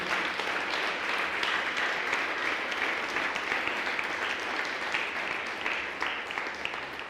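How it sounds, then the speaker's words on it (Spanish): A church congregation breaks into sustained, dense applause that fills the room steadily from start to finish, a broad wash of many hands clapping together without pause. "Denle un fuerte aplauso"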